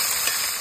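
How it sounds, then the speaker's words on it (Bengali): Onions sizzle and fry in hot oil as beresta for chicken biryani, cooked outdoors at a Sundarban picnic. A short, steady, close hiss with no talking. "তেল গরম, বেরেস্তাটা আগে বানিয়ে ফেলি।"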